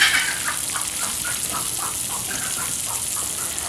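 Chickens cluck near someone cooking: a string of short, evenly spaced clucks repeats through the clip, fairly close, against a constant hissing background.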